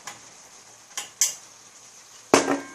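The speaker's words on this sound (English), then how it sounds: "with a teaspoon, of course I can stir it in." A teaspoon clinks against a pan while stirring chili bean paste in, four sharp metallic taps spaced irregularly, the last one loudest, over a quiet background.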